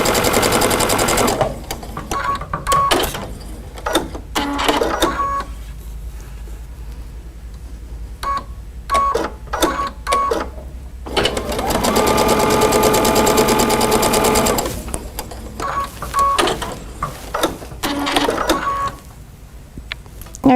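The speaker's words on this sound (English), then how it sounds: "So now we have our lines and we're going to sew on the outside lines." A sewing machine stitches quilt fabric along the outside lines of a star-pattern block, running in several bursts of steady mechanical whirring separated by brief pauses, with one long continuous run in the middle, close and loud.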